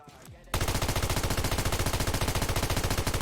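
Rapid automatic gunfire from a new weapon in PUBG Mobile rattles in a loud steady stream after a brief quieter moment at the start.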